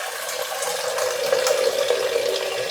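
Water poured steadily into a mixer jar with grated coconut for grinding coconut milk, a continuous close splashing stream lasting a few seconds without pause.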